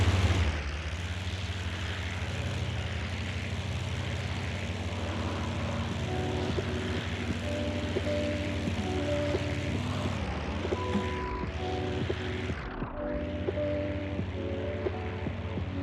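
A propeller aircraft engine drones steadily through flight in the WWII combat flight game IL-2, loud and continuous with a low throb, briefly dipping in pitch as the plane maneuvers, accompanied by faint tonal cockpit cues.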